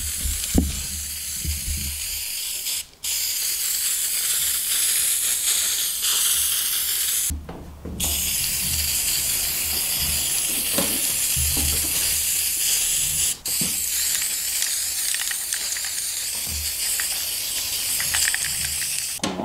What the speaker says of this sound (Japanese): このスプレーのりで、ちょっと留めてみようかと思います